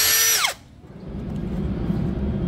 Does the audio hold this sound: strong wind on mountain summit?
no